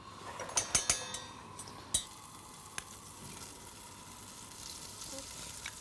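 Butter and flour sizzling in a saucepan as a roux is made, a steady soft frying hiss with a few sharp utensil clinks and taps near the start.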